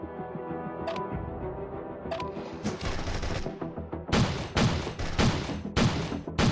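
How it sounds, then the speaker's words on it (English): Rapid bursts of gun-turret gunfire in the State of Survival zombie strategy game, loud and dense, with repeated sharp volleys growing heavier over the final seconds. "Gunfire's too loud. We must fall back."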